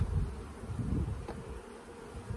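Honeybees buzz as a low, steady drone from an open hive during frame work, close and continuous with no talk.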